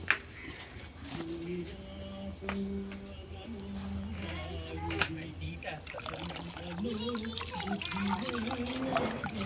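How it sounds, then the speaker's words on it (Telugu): Tap water runs while black guava fruit is washed, a steady trickle and splash under a voice speaking throughout, with a bird faintly audible in the background. "దీన్ని అయితే ఫస్ట్ వాష్ చేసి కట్ చేసి వాడికి ఇచ్చేస్తాను"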